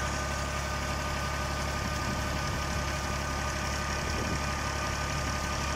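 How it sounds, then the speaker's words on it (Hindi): A 2006 New Holland 55 HP tractor engine runs at high revs while powering a tubewell pump, a loud, dense, steady drone with a constant mechanical rumble and no talking. "ट्रैक्टर में रेस बहुत ज्यादा ओवर है"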